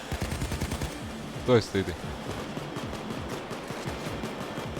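Gunfire in the heist video game Payday 2, a rapid burst of close automatic shots followed by scattered distant rounds, with a player talking briefly over it.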